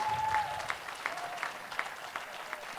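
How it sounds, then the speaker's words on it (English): Audience applause at a Sterling High School Black History Month assembly honoring student actors, dancers, singers and poets, a moderate, scattered patter of clapping in a large room that holds steady for a few seconds without talk. "Can we get one more round of applause for our actors, dancers, singers, poets?"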